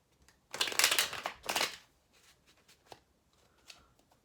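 Chuck Spezzano love cards are shuffled on a knee in two quick, close bursts of papery riffling, followed by a few soft taps and handling sounds, with no talking.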